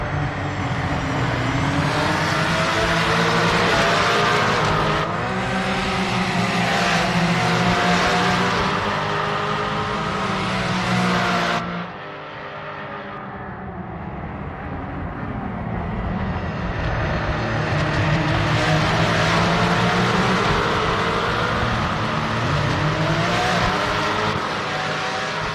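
Race car engine in Project Motor Racing, loud and continuous, revving and shifting through gears with a brief dip in pitch and volume near the middle before building again, no voices.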